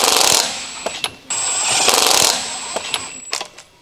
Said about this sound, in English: Use the 22mm deep socket with the electric impact wrench to snug down the front wheel lug nuts.